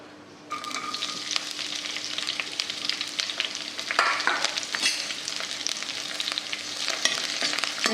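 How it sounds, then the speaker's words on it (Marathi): Green chillies sizzle and crackle steadily in hot oil in a wok while being made into sabudana khichdi, a bright continuous frying hiss that starts abruptly and carries occasional stirring scrapes and pops, close and moderately loud with no talking. "तेल तापलं की आता मिरच्या घालू।"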